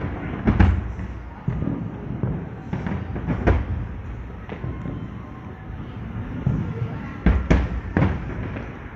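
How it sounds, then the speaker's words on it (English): New Year fireworks over the Burj Khalifa and La Mer in Dubai thud and crackle from a distance in scattered bursts, with occasional talk nearby. "you have such beautiful fireworks that you can enjoy at home from both the sides live"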